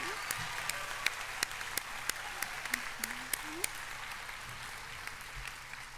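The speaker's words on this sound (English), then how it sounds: "So you folks deserve a round of applause again." Applause for adult high school equivalency graduates at a 2017 graduation ceremony, heard as sparse, distinct claps in a large room with faint crowd murmur and some voices underneath.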